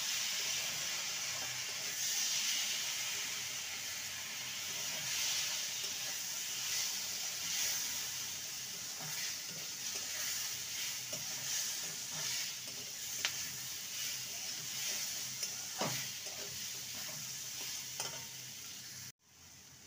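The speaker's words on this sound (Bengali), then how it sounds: "ভালো করে নেড়ে নেব" A spatula steadily stirs fried moong dal and spices in a pan while making a radish ghonto. Continuous sizzling hiss carries soft repeated scraping strokes close by, with no voices.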